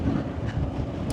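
Headwind buffets the microphone on a Tenere 700 motorcycle at about 60 km/h on a road in Uzbekistan, a loud continuous low roar of wind rush without speech.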